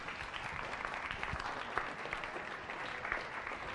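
Steady applause from an audience at a science cafe talk on flu pandemic preparedness, continuous and moderately distant for the whole stretch with a few sharper claps standing out.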